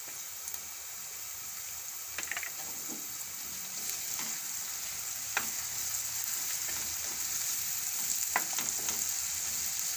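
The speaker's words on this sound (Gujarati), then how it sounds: "આપણે કડીક તેલમાં ડુંગળી આ રીતે ચડવા દીધી હતી" Chopped onion, ginger and green chillies fry in a pan of hot oil, giving a steady crackling sizzle with a few brief scrapes of a spoon, close and fairly quiet, with no voices.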